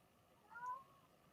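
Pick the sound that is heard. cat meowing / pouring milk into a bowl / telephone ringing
cat meowing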